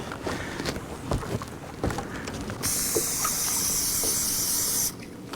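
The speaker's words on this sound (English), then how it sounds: "We're gonna hit this with some of that garlic spray." A continuous hissing burst of garlic scent spray, used while fishing for redfish on Lake Pontchartrain, lasting about two seconds, close by, preceded and followed by quieter handling clatter and rustling.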